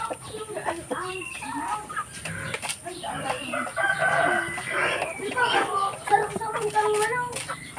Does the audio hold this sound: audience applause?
no